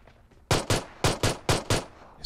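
Six sharp SKS semi-automatic sniper rifle shots ring out in PUBG Mobile, fired in a quick uneven rhythm of pairs with loud, close reports and short decays.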